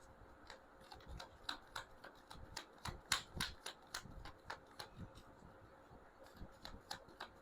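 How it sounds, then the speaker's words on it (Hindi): Tarot cards being shuffled by hand, giving a soft, quiet run of irregular papery flicks and riffling snaps throughout, with no talking. "मैं शफल कर रही हूँ"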